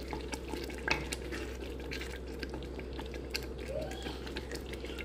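A pot of Nigerian vegetable soup being stirred: a soft, steady scraping and sloshing bed, with a low hum underneath and a few brief clicks near the start.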